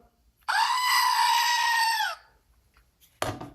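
A screaming goat sound effect: one long, loud, strained scream lasting about a second and a half, followed by quiet and a short thump at the end.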